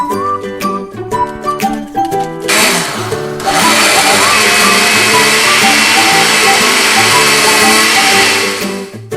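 An electric blender whirs loudly and steadily up close as it blends onion and garlic for Ghanaian mpotompoto, after a few clicks and clanks at the start, then a continuous high motor roar to the end.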